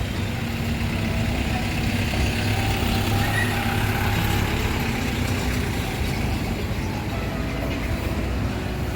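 Heavy street traffic in Mumbai near Shivaji Park: a dense, continuous roar of engines with a large truck rumbling past close by, steady and loud throughout without a break.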